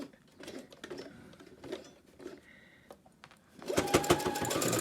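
Sewing machine stitching a tote bag 1/8 inch from the edge, starting with short stop-start bursts of mechanical clatter, then settling into a loud, steady rapid whir close by.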